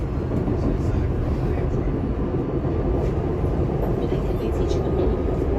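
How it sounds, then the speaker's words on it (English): Amtrak train on the adjacent track seen from a SEPTA regional rail train, a continuous low rumble and rolling rail noise throughout, with a voice talking over it. "you can see the Amtrak train on track 1"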